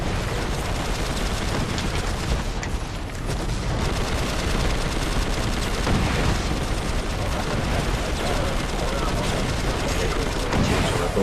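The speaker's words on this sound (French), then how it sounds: "Avec un fusil d'assaut." Assault rifle fire in the video game Prototype 2 rattles on continuously amid a dense, loud mix of explosions and battle noise, with no pause across the whole stretch.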